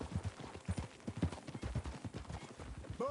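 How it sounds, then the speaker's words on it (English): Horse hooves clip-clop in a quick, steady rhythm on open ground in the Western video game Red Dead Redemption 2, close and continuous, with a short whinny-like tone near the end. "Get a hold of that horse, will you?"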